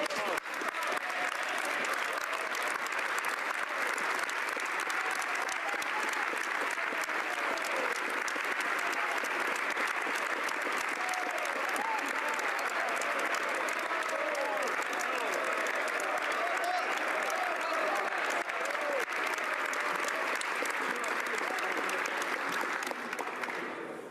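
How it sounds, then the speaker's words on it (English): Sustained, dense applause fills the House of Commons for the federal Finance Minister ahead of the 2017 budget speech, steady and loud for over twenty seconds with a broad crowd wash and no clear break. "I'd like to start by saying I very much appreciate the advance applause."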